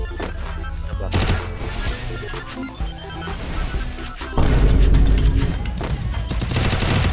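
Rapid gunfire in the mobile shooter game Free Fire, dense bursts of automatic shots and booms over game sound, with no talk.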